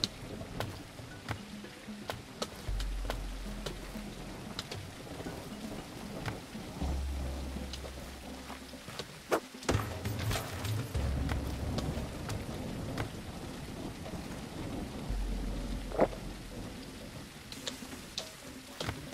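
Steady rain falls in the survival game Tribe Primitive Builder, a continuous hiss with scattered drop patter and occasional low rumbles, moderately loud and with no voices.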